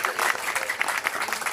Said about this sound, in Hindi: गोटे जोरदार करताली कर दिंतु